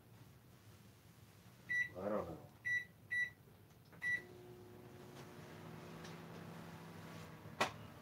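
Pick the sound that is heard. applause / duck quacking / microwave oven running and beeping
microwave oven running and beeping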